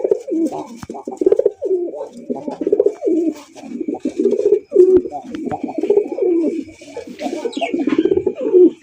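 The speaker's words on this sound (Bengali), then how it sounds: "দেখেন কত সুন্দর এক জোড়া কবুতর।" A pair of round golla pigeons coo loudly and close by in repeated throaty rolling phrases, with short gaps between bursts and faint background noise.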